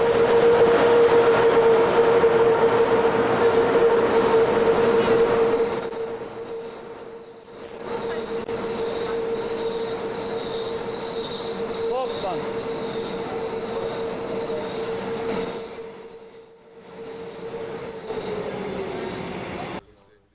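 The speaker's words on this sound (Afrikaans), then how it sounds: "En so is ons toe met die trein deur weer na Dundee toe." A train runs on the rails toward Dundee in South Africa, a loud continuous rumble with a sustained high wheel squeal, dropping away in brief gaps before the roar returns.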